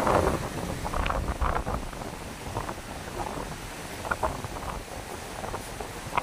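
Ocean waves break on a shore with steady wind noise and a broad wash of surf, interrupted by occasional louder swells and faint distant voices.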